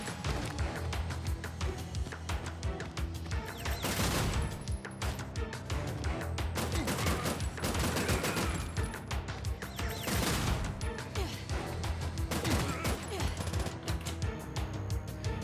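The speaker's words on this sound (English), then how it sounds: "Dodge the bullets." Rapid gunfire and bullet impacts in the side-scrolling game Terminator 2D: No Fate, a continuous busy barrage of sharp shots and crashes with several heavier bursts, set against game music.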